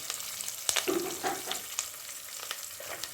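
Onions, curry leaves and green chillies sizzle lightly in hot oil for okra rasam, a soft close crackle with a few sharp pops and spoon taps.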